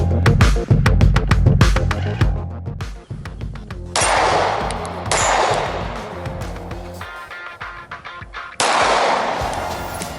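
A Glock 17 firing at steel targets on an outdoor course, with rapid sharp shots in bursts and metallic ringing from hits between the shots.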